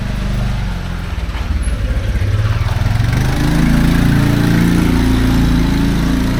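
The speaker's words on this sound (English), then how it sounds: "Rain and motorcycle, no problem." Motorcycle engine rumbling through a narrow, rain-wet alley in the Fes medina, a steady low drone that swells louder in the second half as it draws near.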